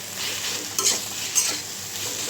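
Sweet potato leaves frying in a pan, a steady, close sizzle with two brisk stirring scrapes near the middle, fairly loud and with no voices.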